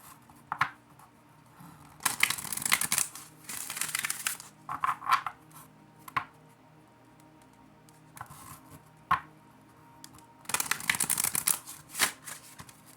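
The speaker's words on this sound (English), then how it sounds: "That was a horrible shuffle." A deck of tarot cards is shuffled in several separate bursts of riffling and flicking, close and crisp, with quiet pauses between each shuffle.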